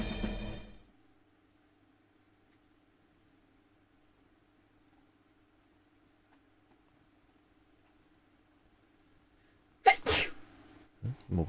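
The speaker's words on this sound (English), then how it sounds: "Morgan sneezing again." Morgan sneezes once, a sharp close burst near the end after long near-silence, with a faint background hum.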